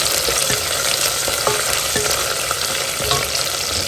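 Onion and fresh green peas fry in a pan with a steady, close sizzle, punctuated by several soft scraping stirs at irregular intervals, with no voices.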